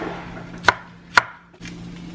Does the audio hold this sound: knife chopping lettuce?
yes